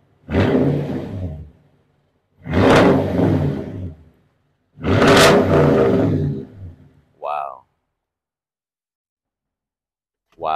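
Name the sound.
Toyota Tundra TRD Pro engine revving with aftermarket exhaust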